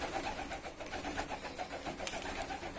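Turkish pigeons in a loft near the end of moulting season give low, steady cooing over a continuous murmur of background noise.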